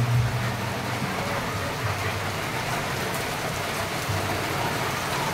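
Rain falling at Noah's Park pool resort in Montalban, Rizal, a steady, fairly soft hiss of drops on surfaces and water, continuous throughout with a faint low rumble beneath.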